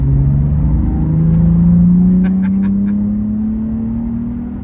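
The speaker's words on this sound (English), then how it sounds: "There is a massive exhaust on this car." A loud Nissan 350Z exhaust drones steadily nearby, its deep tone rising slowly as the engine revs up under acceleration, with faint chirps overhead.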